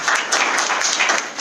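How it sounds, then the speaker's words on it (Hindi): An audience bursts into dense, steady applause at an event, many hands clapping together in a loud, sustained wash that lasts the whole short moment without talk. "उनके लिए भी एक जोरदार तालियां।"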